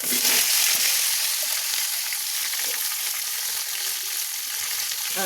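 Onion frying in a pan with browned coconut pieces and curry leaves for a chicken curry, a loud, dense sizzle close by with soft scraping stirs throughout, no voices.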